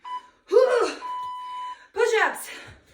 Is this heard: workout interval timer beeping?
yes